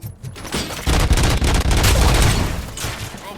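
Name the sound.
gunshots in the video game RoboCop: Rogue City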